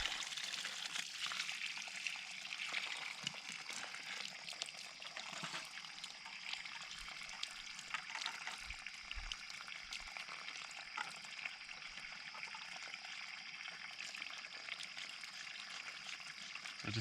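Water draining from a cut farm waterline pipe at an outdoor spigot setup, a faint, continuous trickling and gurgling with a few soft knocks.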